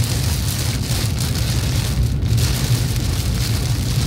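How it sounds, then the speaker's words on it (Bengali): Heavy, sudden rain pours steadily in Dubai, a dense continuous hiss with a low rumble of nearby traffic, loud and close throughout with no talking. "প্রচুর পরিমাণে বৃষ্টি পড়ছে হঠাৎ করে আসলে।"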